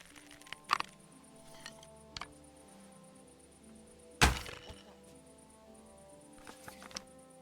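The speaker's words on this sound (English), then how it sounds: "What if I fire the bolt from further away?" A crossbow bolt in Kingdom Come: Deliverance II is loosed and strikes with a sharp, loud thunk, set among a few fainter knocks and ticks in a quiet outdoor scene.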